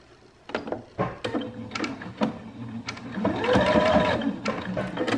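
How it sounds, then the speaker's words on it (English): A sewing machine back stitching at the start of a seam on a small holiday candy cane project, a quick run of needle clicks and clatter that builds into a steady close mechanical whir. "Back stitch or fixed stitch at the beginning."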